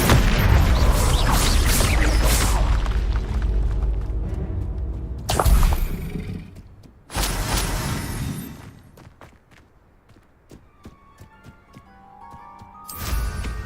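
Confringo spell blasts in Hogwarts Legacy, several loud booming bursts with whooshes, separated by quieter gaps, with dense combat noise at the start and a fresh explosion at the end.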